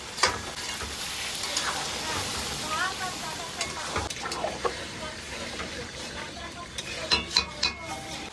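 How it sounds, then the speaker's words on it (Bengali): Braised mutton sizzling in a pan as water saved from pressure-cooking is poured in, with a steady hiss, clattering stirs and brief louder bursts near the end. "এবার যে প্রেসার কুকারে সিদ্ধ করে রেখেছি জলটা, সেই জলটা দিয়ে দেবো।"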